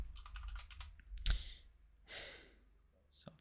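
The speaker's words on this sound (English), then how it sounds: "So I'm just going to type ABPU4" Brief bursts of computer keyboard typing, a quick run of close key taps at the start and a few more later, mixed with audible breaths and a sigh.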